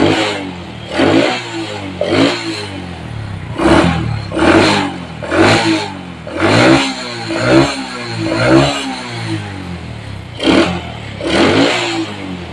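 Bored-up Honda Supra X 125 motorcycle engine revving close by, repeated throttle blips rising and falling in a steady rhythm over a rough idle.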